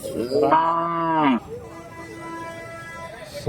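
A cow gives one long, loud moo close by at a weekly Sunday cattle market selling native cattle in Andhra Pradesh, followed by quieter low background noise and a faint distant moo.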